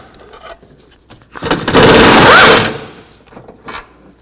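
Two bolts on a Chevy Traverse are backed out with a 15mm socket on a power driver during a camshaft position sensor replacement, giving one loud, steady whirring burst of about a second with quieter handling noises before and after.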